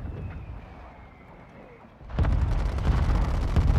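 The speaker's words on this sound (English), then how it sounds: "Mortar strike inbound now." Mortar strike explosions in a video game arrive as a sudden loud rumbling barrage after a quieter stretch, with heavy booming blasts rolling on continuously to the end.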